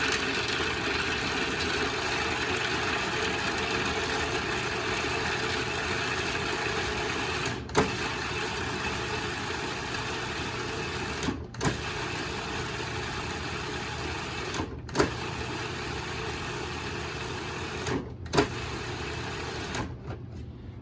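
A kitchen food processor chops garlic scapes for pesto, its steady motor whirring loudly with brief stops every few seconds as it is pulsed, close and without talk.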